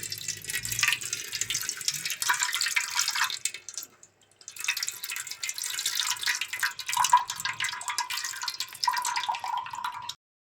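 Tamarind water pours and trickles into a vessel for Ugadi pachadi, a close splashing stream in two bursts separated by a brief pause, with no talking.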